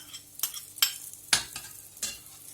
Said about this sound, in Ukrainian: Тепер ми сюди додаємо, на прес я перечавила чесничок розмішуємо